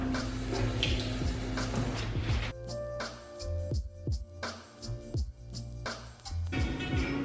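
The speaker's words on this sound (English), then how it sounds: "please wash your hands" Tap water runs steadily into a sink while hands are washed before baking a dairy-free apple pie at home, with splashing and rubbing textures shifting under the flow and a brief change in the stream midway.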